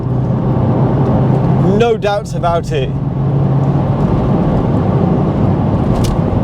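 A Porsche 911 Turbo 997 cabriolet drives along with a steady low engine and road drone heard from the cabin, and someone speaks briefly over it.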